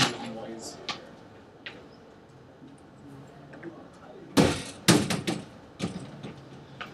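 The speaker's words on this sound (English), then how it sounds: "I want to close the door." An indoor door is pushed shut, giving a couple of sharp knocks and a rattling thud after some faint scattered ticks and taps in a quiet room.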